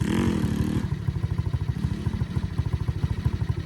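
A pit bike, a small dirt bike, runs nearby with a steady pulsing engine note, revving higher at the start and then settling into an even, rhythmic idle.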